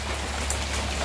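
Heavy rain pours down in a steady, dense wash of hiss, continuous and fairly loud for a brief moment, with no voices.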